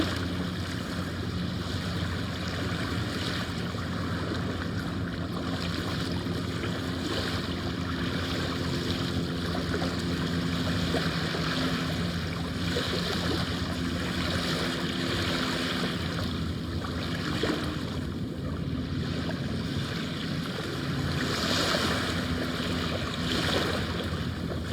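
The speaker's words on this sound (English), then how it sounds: "Maybe a comment about the waves are a little louder." Ocean waves wash in a continuous rushing surf, with gentle swells rising and falling and some wind noise, no voices.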